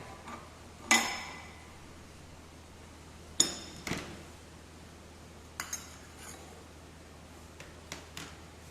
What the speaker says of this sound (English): Now slowly remove the barrel.